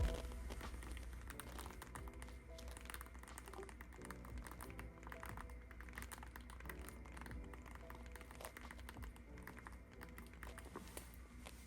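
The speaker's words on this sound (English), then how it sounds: "here's a quick preview of that keyboard click" Rapid keyboard clicks on a Minimal Phone MP01 Pebble, a steady stream of light, close taps and clacks that run for about twelve seconds with no talking.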